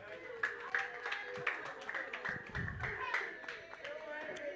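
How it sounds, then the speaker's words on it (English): An audience at a live stage comedy show claps for the comedians, with scattered, fairly faint claps in an irregular rhythm beneath ongoing talking and a brief low rumble. "Please a round of applause for every comedian that have graced this show today"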